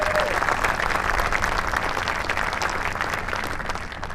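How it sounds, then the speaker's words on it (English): Crowd at a USS Delaware commissioning ceremony applauding President Biden, a full, sustained round of clapping with faint cheers that gradually eases off. "Another round of applause."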